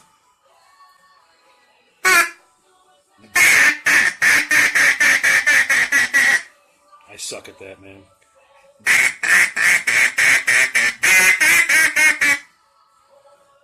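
A wooden duck call, unfinished and still awaiting fine polishing, blown in two long runs of rapid, evenly spaced quacks at close range, with a short spoken remark near the start and a brief vocal sound between the runs.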